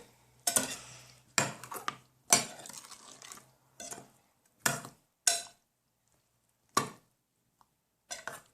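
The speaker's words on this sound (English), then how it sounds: "Now I'm going to mix this around." A spoon scrapes and stirs through a bowl of mixed berries, pineapple, sugar and salt in short separated bursts, close and fairly soft with quiet pauses between strokes.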